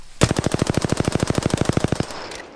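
Automatic gunfire in the video game Apex Legends: a single rapid, evenly spaced burst of about two dozen sharp, loud shots lasting roughly two seconds, up close and alone, then a faint tail.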